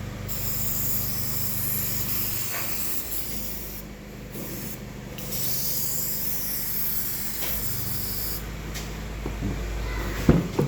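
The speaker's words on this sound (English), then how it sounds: "now I spray the silicone." Silicone spray hisses onto a Honda City GM6 power window channel in short bursts separated by pauses, close and fairly quiet, with light rubbing between sprays.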